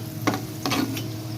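Curry leaves dropped into hot oil to finish a mutton dish crackle in two short close bursts of sizzling and stirring over a low steady hiss.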